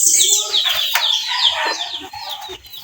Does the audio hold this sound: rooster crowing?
yes